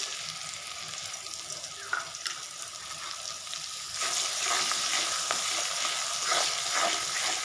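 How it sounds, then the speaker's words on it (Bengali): Chopped onion frying in spices for a rustic chicken curry gives a soft, steady sizzle that grows louder and busier halfway through, with occasional stirring scrapes. "পেঁয়াজটাকে একটু ভেজে নিচ্ছি।"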